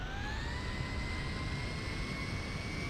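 A Piper Meridian airplane engine starting up in GTA 5, heard as a steady, loud turbine whine with a tone that rises and then holds, continuous throughout with no talking.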